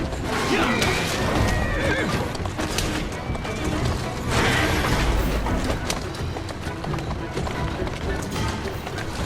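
A horse in Assassin's Creed Syndicate whinnies repeatedly over galloping hooves and busy background noise, loud and close.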